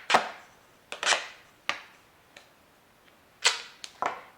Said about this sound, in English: you're going to take your duct tape and just peel out a strip,